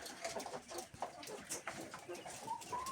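Laying hens, including Loman Brown birds, cluck and coo close by on a small farm, a steady overlapping chatter of soft calls with one brief rising note near the end.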